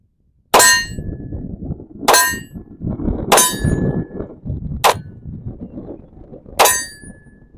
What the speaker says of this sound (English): I'm going to fire a few rounds this way, hopefully get you a perspective of what I see